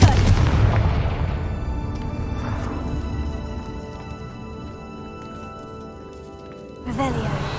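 The Confringo spell explodes in Hogwarts Legacy on PS5, a loud booming blast whose rumbling echo slowly fades, followed by a second, more abrupt explosion near the end.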